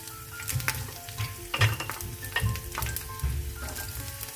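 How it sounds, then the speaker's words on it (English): Garlic hits well-heated oil in a pan for a Kolhapuri mutton kharda and sizzles in close, crackling bursts, with occasional stirring clatter and no voices. "Now oil is heated well. Now I am going to add garlic."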